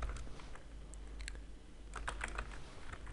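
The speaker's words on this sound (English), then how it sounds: "Basically I will type it now." Rapid, uneven clatter of a computer keyboard being typed on up close, short bursts of keystrokes with brief pauses between.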